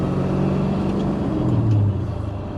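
A 1962 Pontiac Grand Prix with Tri-Power carburetion, headers and a 4-speed idles and runs with a deep, steady rumble close by, swelling slightly in a brief rev before settling.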